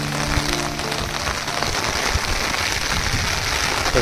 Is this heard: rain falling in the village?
yes